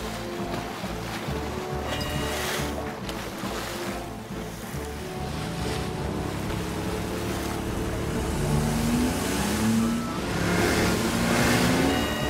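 A nurse's car in the Fireman Sam cartoon speeds toward the beach, its engine revving and rising in pitch over a background wash of surf and wind.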